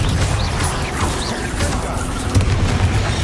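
Confringo spell explosion in Hogwarts Legacy, a low booming burst amid continuous game combat noise, rumbling through the whole short clip without a clearly separate peak.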